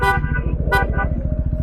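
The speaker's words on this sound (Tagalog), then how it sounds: "May bumusina ba?" Two short car-horn honks, near and fairly loud, ring out over the steady pulsing rumble of an idling vehicle engine on a drive in Malico, San Nicolas, Pangasinan.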